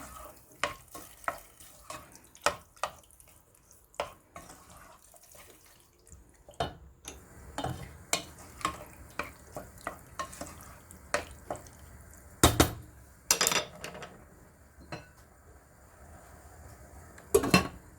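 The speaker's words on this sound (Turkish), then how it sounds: "Şöyle bir karıştırıyorum." Spoon stirring sikicik soup with homemade tomato purée in a pot, a series of sharp metallic clinks and scrapes at irregular intervals over a faint sizzle, with a few louder clatters near the end.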